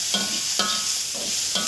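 French beans frying and being stirred in a pan with onion, garlic and chili, a steady sizzle broken by four regular scraping stirs about every half second, close and fairly loud with no talk.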